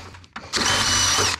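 A power drill bores a mounting hole for a transmission cooler, starting with a short burst, then a steady loud whine for about a second before stopping.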